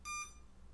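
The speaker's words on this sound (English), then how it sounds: "I just got to turn that beeping off for a second here" Timer beeping on a Graupner MZ-32 radio transmitter, a clear high electronic beep followed by a second shorter one, fairly quiet and close.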